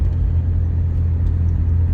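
A 1980s Buick Reatta on the road, its engine giving a steady low rumble with constant road noise, loud and close from inside the car, with no voices.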